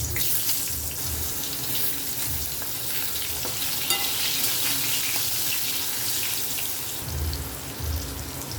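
Potatoes frying in a pan while fish and cucumber are cooked for a Bengali dish, giving a steady close sizzle with stirring and scraping, and a brief burst of running water near the end.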